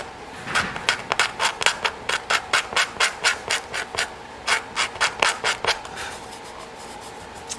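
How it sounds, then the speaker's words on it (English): A tool scrapes finish down to the bare surface during a restoration, giving a steady series of about twenty short, rasping strokes in an even rhythm, close and moderately loud, with a brief pause partway through. "I just scrape the last little bit down to the surface"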